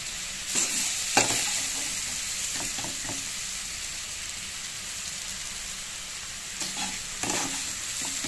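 Eggplant, onion and potato sizzle in a frying pan as a spatula stirs them, with a constant hiss broken by several sharp scraping strokes near the start and again toward the end.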